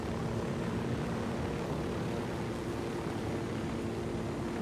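A helicopter in the video game Ghost Recon flying over a city, a constant dense rotor and engine roar filling the whole clip at an even level with no talking.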